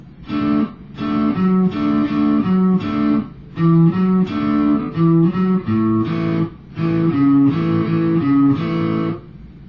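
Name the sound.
guitar playing chord riff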